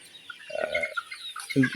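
Desi chickens give two short bursts of nearby clucking over a quiet background.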